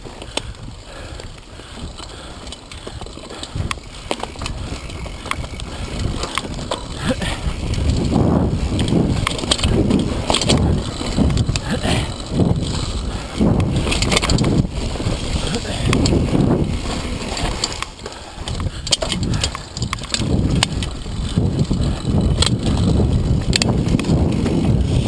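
Mountain bike ridden along a wooded state park trail in New York: a steady rush of tire crunch, rattling and wind buffeting the microphone, with bumps and knocks growing rougher midway, and a voice speaking briefly under it.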